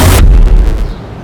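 A single loud gunshot-like blast in a TV crime drama shootout, an abrupt burst that cuts off after a fraction of a second and leaves a rumbling decay trailing behind it.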